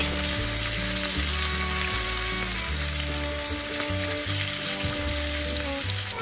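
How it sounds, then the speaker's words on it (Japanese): Chicken drumsticks brown in sesame oil over medium heat, a loud, dense, steady sizzle and crackle that holds throughout with a faint hum underneath. "手羽元の両面に焼き目をつけるようにして中火で炒めます。"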